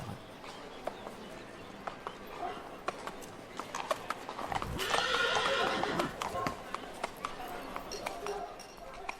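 Hooves clip-clop at a steady walking pace, with faint clinking of tack and a soft whoosh of wind passing midway.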